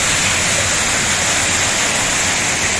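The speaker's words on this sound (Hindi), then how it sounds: "ये ऐसे ऊपर से यहाँ से पूरा पानी आता है।" Bagsu waterfall near McLeodganj in Himachal Pradesh roars as a dense, steady rush of falling water, loud and close, with no voices.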